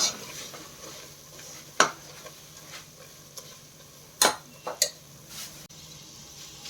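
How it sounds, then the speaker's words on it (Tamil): Spice powders sautéed on low heat in a pan for chicken biryani: soft sizzling under a few sharp clinks and scrapes of a utensil against the pan, fairly quiet and close. "சிம்மில் போட்டே வதக்குங்க"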